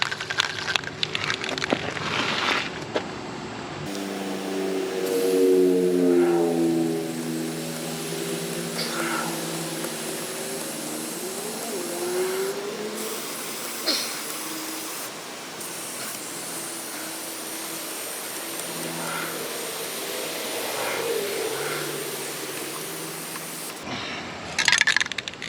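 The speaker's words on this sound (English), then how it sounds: "when you're spraying chemicals, do them outdoors" Aerosol chain lube on a Yamaha FZ1 motorcycle makes a steady hissing spray through most of the stretch, outdoors, with a brief rattling burst at the start and faint scraping and clinking in the background.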